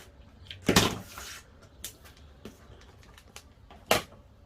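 A rotary cutter slices a square of quilting cotton on a cutting mat, giving a strong crisp cut near the start, a few faint scrapes and handling noises, then another sharp cut near the end.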